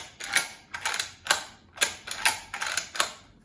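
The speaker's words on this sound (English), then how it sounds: "I do want to mention to you guys that the bolt is very smooth in the rifle." The bolt of a Mossberg Patriot rifle is cycled repeatedly, giving a run of crisp, close metallic clacks and slides in a quick, uneven rhythm with no talking.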